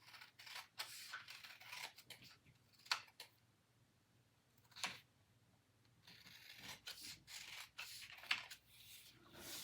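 Scissors snip through fabric along a sewing pattern piece for a twilly scarf, a few crisp close cuts with rubbing and rustling between them, quiet and with no talk.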